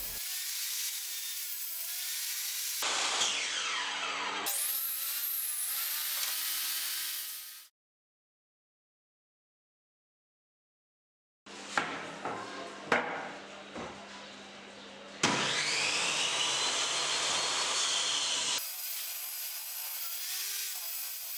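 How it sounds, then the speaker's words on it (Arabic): A table saw cuts 17 mm MDF panels for a dining sideboard. Loud, sustained, whining cuts come in several long passes, broken by a few seconds of silence and some knocks as the boards are handled. "هقطعهم على التيبل سو على المقاسات المطلوبة."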